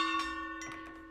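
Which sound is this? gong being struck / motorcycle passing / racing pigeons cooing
gong being struck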